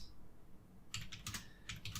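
Someone types on a computer keyboard in a brief, quick run of soft key clicks after a short quiet pause, close and faint.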